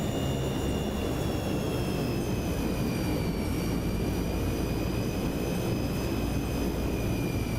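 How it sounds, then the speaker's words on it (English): Jet engines of an Inibuilds NAMC YS-11 airliner in Microsoft Flight Simulator 2024, a steady close roar with whining tones that drift slowly downward as the engines shut down. "Let me shut off the engines."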